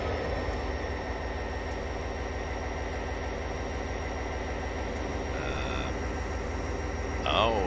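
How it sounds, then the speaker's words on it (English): CSX 8806 locomotive running in the Train Simulator 2020 game, a steady rumbling diesel drone with rhythmic rail clatter, a short tonal beep and a faint squeal near the end. "Getting used to this locomotive."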